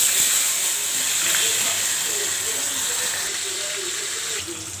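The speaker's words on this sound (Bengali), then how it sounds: "মাছটা ভেজে নেব" Fish frying in hot oil in a pan, giving a steady bright hiss and sizzle with small crackles that slowly fade over a few seconds, close by and with no talking.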